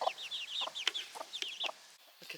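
Backyard chickens, hens or young roosters, cluck softly in a rapid, uneven series of short calls with a few sharper squawks mixed in, fairly quiet and with no voices.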